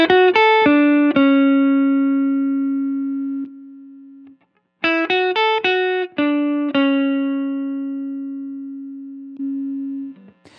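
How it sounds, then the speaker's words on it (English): Electric guitar run through a Strymon Compadre compressor pedal, played as two phrases of quick picked notes that each end in a long, evenly sustained held note, clean and loud with no talking. "by bringing the threshold down, more of the guitar signal will be in the area that's compressed"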